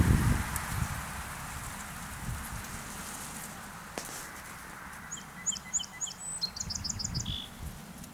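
A bird sings a short series of high, sharp chipping notes followed by a quick trill, fairly faint and distant, over a soft, hissing sedge meadow background.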